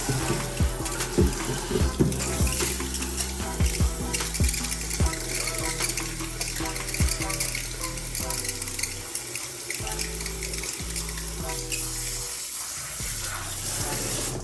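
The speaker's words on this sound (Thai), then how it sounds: "จากนั้นผสมน้ำในถังนี้นะครับ" Tap water runs steadily into a bucket being filled to mix a homemade disinfectant, a continuous rushing splash with small knocks and shifting tone as the level rises, close and fairly loud.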